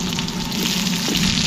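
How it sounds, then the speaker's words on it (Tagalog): Onions added to a hot pan with ginger, giving a steady, close sizzle and crackle of frying throughout, with no speech. "isunod na natin yung ating sibuyas"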